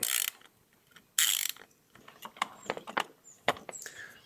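Ratcheting clicks and metallic clatter from a wrench driving a 3/16 Allen bit on an extender, loosening the rear buttstock hardware of a Henry Supreme rifle; close, loud bursts with scattered ratchet ticks between, no talk.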